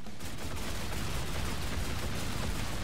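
Dense, continuous gunfire shooting at a boss in a video game, a steady loud rattle of rapid shots with no pauses.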